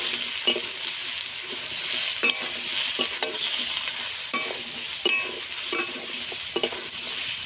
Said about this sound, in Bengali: ঝিঙেটাকে একটু ভালো করে ভেজে নেব।